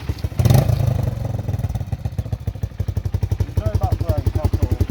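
A 1978 Honda XL 250 motorcycle engine, a barn find, runs close by with a loud burst of revving early on, then settles into a rapid, pulsing idle thump with faint voices in the background.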